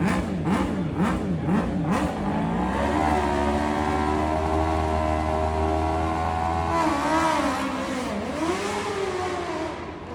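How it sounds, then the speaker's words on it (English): A BMW M1000RR superbike revs hard indoors in a large hall, with rapid blips rising and falling and then a long, loud held rev that echoes around the space. "the M1000R RR sounds unbelievable, especially in a hall like that"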